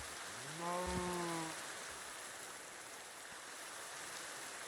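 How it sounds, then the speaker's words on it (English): Steady rain falls over a forest in the video game Minecraft, a continuous broadband hiss of drops with a brief tonal chime or creature call rising early on, then the even downpour continuing alone. "Just rain in a forest."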